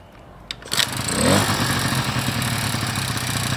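A 1986 Honda Spree scooter with its stock oil injector cranks with a brief clatter, catches, and settles into a steady, close, buzzing two-stroke idle that runs on alone.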